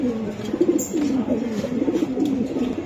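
A racing pigeon cooing close by, a repeated soft throaty warbling coo in quick cycles over faint background noise.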